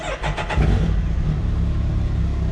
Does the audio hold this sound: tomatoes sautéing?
no